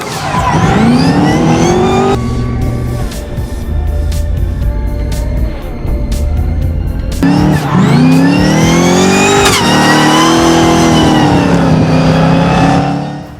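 Loud, close Nissan 370Z race car fitted with a V8 revving and accelerating on a track at Teesside, rising engine pitch through gear changes with a brief lower-revving stretch mid-way, sustained and aggressive.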